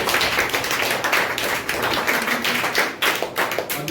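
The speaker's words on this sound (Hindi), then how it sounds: "अपने लिए फुल एनर्जी के साथ में ताली बजा दें" An audience at a motivational session claps with full energy, a dense, continuous patter of many hands close and loud throughout, no talking over it.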